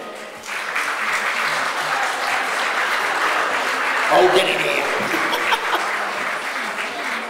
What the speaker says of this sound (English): Please, a loud round of applause for Bill and Janine